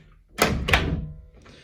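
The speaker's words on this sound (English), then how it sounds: "we'll close the door" A door swings shut with two heavy thuds in quick succession, the latch and fin bolt deadlocking, followed by a faint rattle near the end; close and fairly loud.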